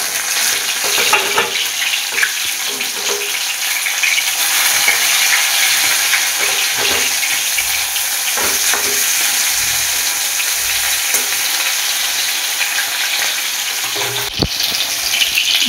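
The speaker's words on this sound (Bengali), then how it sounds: "ডিপ ফ্রাই হবে।" Chicken deep-fries in hot oil with a loud, continuous sizzle and crackle, broken by scattered pops and the occasional clink of a utensil, heard close up.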